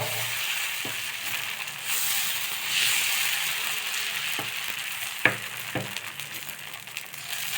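Thin pumpkin dosa batter sizzles on a hot pan, a steady close frying hiss with a few faint clicks and scrapes, no talking.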